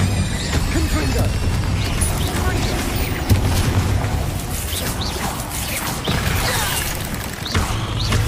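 A Confringo fire-blast spell cast in Hogwarts Legacy, its booming bursts erupting amid a dense, continuous clamor of combat effects, loud and close, with voices talking over the fight.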